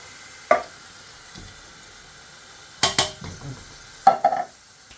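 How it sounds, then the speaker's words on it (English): Chopped tomatoes going into a pot of fried beef mince for a large batch of bolognese, a few sharp clinks and scraping stirs over a faint steady sizzle, no one talking. "So now I'm going to add my chopped tomatoes."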